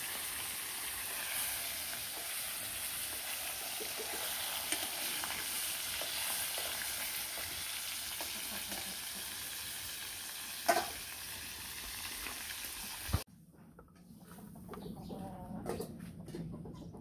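Puri dough frying in hot oil crackles with a steady, close sizzle for most of the stretch, then cuts off abruptly to quieter room sound with a few soft knocks.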